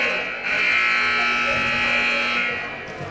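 Scoreboard buzzer at a school volleyball game sounding as one steady, loud electric buzz lasting about two seconds over gym ambience.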